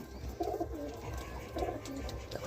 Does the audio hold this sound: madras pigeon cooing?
yes